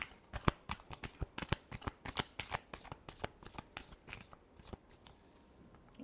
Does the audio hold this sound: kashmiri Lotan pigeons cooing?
no